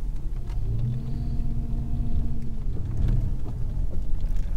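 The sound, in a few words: Chrysler 300C V8 Hemi engine rumble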